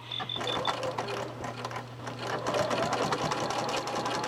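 A sewing machine stitches quilt binding in a steady, close mechanical whirr with rapid needle chatter and a faint underlying hum, running continuously without speech.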